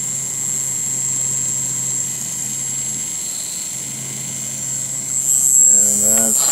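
A MagSpinner pulse motor spins at roughly 8,400 RPM, giving a steady high-pitched electrical whine with a constant hum beneath. A louder, rougher burst of noise enters near the end.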